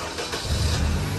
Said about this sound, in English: press nyo lang to, tapos engine start